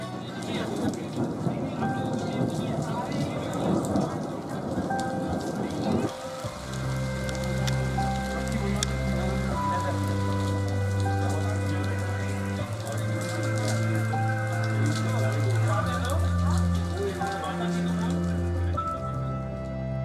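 Steady rain falls through a deodar forest near Manali, a dense, constant hiss that lasts throughout, with low droning tones joining partway through.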